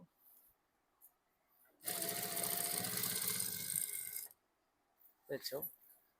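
Domestic sewing machine stitching fabric for a homemade lunch bag, a steady close mechanical whir running for about two seconds, preceded and followed by small clicks and fabric handling.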